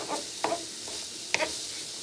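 Seasoned cheesesteak meat with onions being stirred on a hot griddle: a steady sizzle underneath, broken by a few sharp scraping spatula strokes, close and moderately loud, with no talking.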